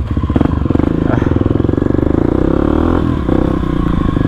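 A Kawasaki KLX 250 dirt bike engine revs steadily up close, its loud throaty rumble pulsing with a rapid rhythm and some clattering throughout.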